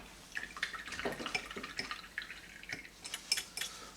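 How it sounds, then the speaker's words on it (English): Water drips and trickles onto paint sitting on a wet palette, with small irregular splashes and wet taps close by, quiet and without talk. "I put some water on the paint"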